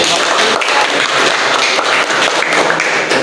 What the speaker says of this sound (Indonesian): Tepuk tangan buat ya.